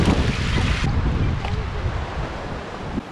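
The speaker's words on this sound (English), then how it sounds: "Our path is kind of a river here." Water rushing along a flooded hiking trail where a river runs over the path in back country, a steady broadband wash with wind noise, continuous and fairly close throughout.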